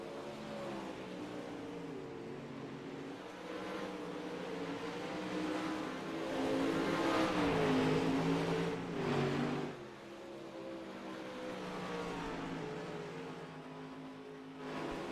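Dirt late model race cars circling a dirt track, a sustained engine drone with rising and falling revs as cars accelerate and pass, heard from a distance without talk.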